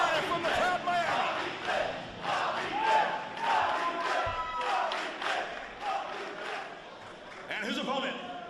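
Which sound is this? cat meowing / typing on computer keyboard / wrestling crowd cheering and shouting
wrestling crowd cheering and shouting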